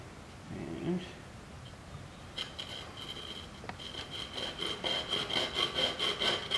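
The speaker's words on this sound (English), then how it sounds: "So take out my trusty saw." Hand saw cutting a notch into a pine bow-drill hearth board outdoors, starting with a few tentative strokes and building into steady, rhythmic back-and-forth rasping, close and moderately loud.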